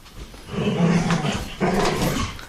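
A dog growls low and rough at close range in two long rumbling stretches, the second starting abruptly after a short dip, with no talking.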